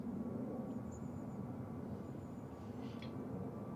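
A Eurowings Airbus in fan livery goes around at Manchester Airport, heard as a faint, distant, steady low jet-engine rumble throughout, with no talking.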